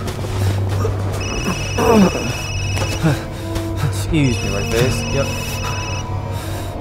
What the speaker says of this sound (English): Bro, pick up your phone.